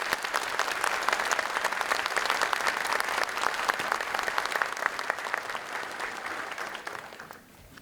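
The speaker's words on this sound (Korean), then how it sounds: "박수 한번 보내주십시오" An audience claps steadily through a ministerial inauguration ceremony, a dense, sustained wash of applause from a crowd that tapers off at the end, with no voices standing out.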